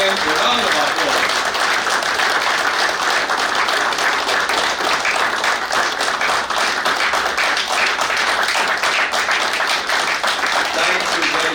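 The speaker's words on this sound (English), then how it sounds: "May we give them a round of applause." Audience at a Nigerian Naval War College graduation ceremony applauding faculty members, with dense, sustained, loud clapping that continues evenly throughout.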